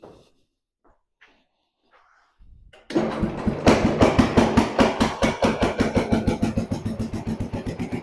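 After a few quiet clicks, a small Jacobsen Chief 800 riding mower engine starts and settles into a steady, low, chugging idle with a regular pulsing rhythm, close by.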